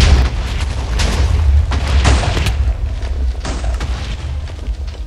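Explosions in the video game Minecraft: a deep, rumbling boom with a dense, crackling burst that rolls on for several seconds, loud and close with no talking over it.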